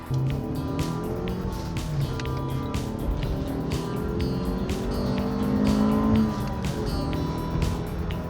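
A 1992 Acura with a 1.7 liter engine accelerates with a steady, loud engine drone that rises in pitch through the gears, heard from inside or close to the car, with no speech.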